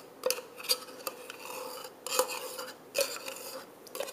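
A metal spoon scraping condensed milk out of a can, a series of sharp clinks and rasping scrapes at irregular intervals, close and distinct against a quiet background.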